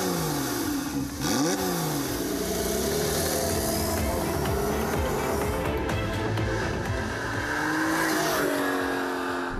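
A turbocharged Porsche 911 Targa 4S on the move, its engine rising and falling through several rev sweeps with gear changes, loud and close, with no talking over it.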